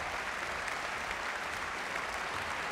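An audience applauds after a chamber music concert of Turina's Sextet, producing a dense, even wash of clapping that stays sustained and fairly loud for the whole stretch.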